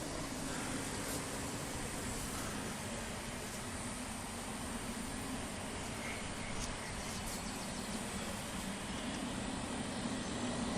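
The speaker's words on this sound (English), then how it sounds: "Emirates taxiing out." An Emirates airliner taxiing at Manchester Airport produces a steady, distant engine roar and broadband hiss that holds evenly throughout, with no talking.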